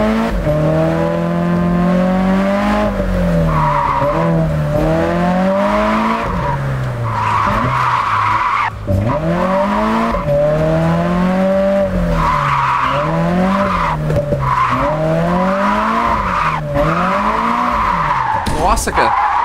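Car drifting in Japanese Drift Master, with loud sustained tire squeal and skidding as the engine revs rise and fall in repeated sweeps through successive slides.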